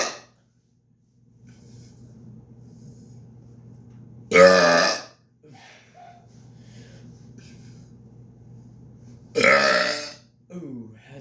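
Two loud, long burps come about five seconds apart, each a broad raspy blast standing out over a low steady hum and faint background noise.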